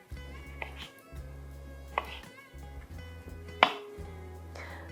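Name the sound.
cutting cherry tomatoes (pomodorini) for focaccia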